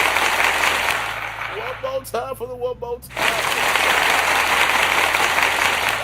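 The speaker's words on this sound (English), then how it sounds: "Let me applaud myself. I'm gonna applaud myself 2 more times." One person at a casual after-show chat claps for themselves, loud and close, in bursts before and after a short spoken remark.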